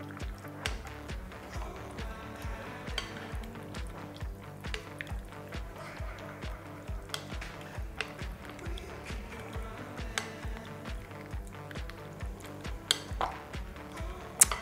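A courgette, chorizo and feta terrine mixture being stirred in a bowl, giving soft, wet squishing and light scraping in a steady rhythm, faint and close, with background music.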